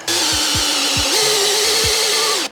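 A power tool bites into material on a Yamaha Raptor 700R, opening a hole to 3.5 inches for a custom CQC intake adapter, with several short thumps followed by a steady high whine and grinding.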